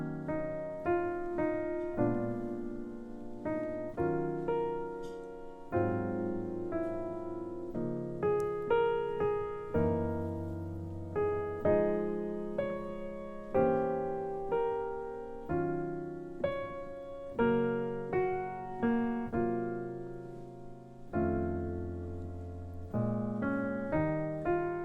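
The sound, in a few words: solo jazz piano playing intermediate arrangement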